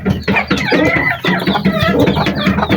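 Chinese chickens clucking loudly and continuously up close, several birds overlapping in busy, choppy bursts with no talk.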